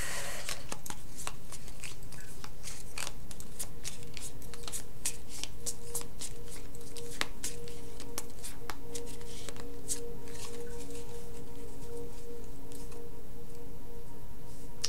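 Cartomancy cards being shuffled by hand, a continuous crisp riffling and flicking of card stock, close and steady for the whole stretch with no talking.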